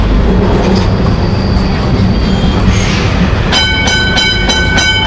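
A Kolkata tram rumbles along loudly with constant low clatter, then the driver rings a bright metallic bell repeatedly in rapid rhythm near the end.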